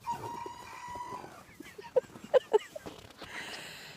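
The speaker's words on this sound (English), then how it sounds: "And the rooster wants us to know he's here." A rooster crows once, close by, in a snowy yard in Massachusetts after a blizzard. Short clucks from hens follow, along with a few quieter rustles and background sounds.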